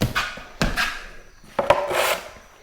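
Drywall knife spreading joint compound over embedded tape on a wall, a close scraping, rubbing sweep in three strokes with short pauses between, no talking.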